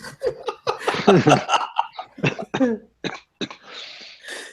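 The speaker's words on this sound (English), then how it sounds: "Cough, cough." Someone coughs and clears their throat in several short bursts, mixed with breathy chuckling, close and fairly quiet.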